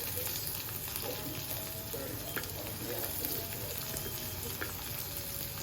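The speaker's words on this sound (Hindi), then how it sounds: "उसके बाद डालूँगी ये प्याज।" Chopped onions fry in a little oil with cumin, mustard seeds, curry leaves and chillies, giving a steady, even sizzle with faint crackles throughout and no distinct voices.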